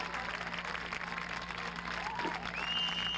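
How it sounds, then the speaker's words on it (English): Audience applause for the US Navy Band Great Lakes at a racetrack event, a moderate wash of clapping heard from some distance with crowd murmur and a brief whistle near the end. "Once again, ladies and gentlemen, a big round of applause."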